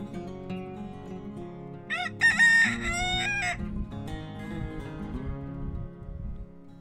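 A rooster crows once nearby on a farm in rural Nova Scotia, a loud strained cock-a-doodle-doo rising above a soft background of hens clucking.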